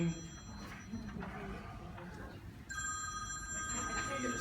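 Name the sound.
office telephone ringing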